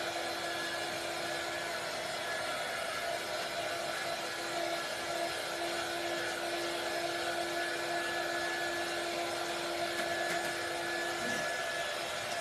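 A hair dryer runs steadily to dry a layered fall craft project, a continuous close whirring hum that holds at an even level from start to finish with no talk.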